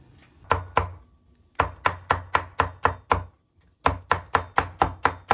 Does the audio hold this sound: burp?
no